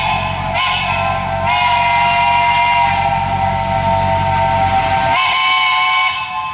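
A small steam locomotive climbing a grade at the Hesston Steam Museum labors loudly and steadily with a continuous hissing roar, its shrill whistle sounding in long sustained blasts throughout.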